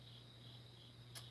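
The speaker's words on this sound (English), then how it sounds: "Crickets." A cricket chirping sound effect, a faint steady high trill over a low hum, with one brief sharp click near the end and no talk.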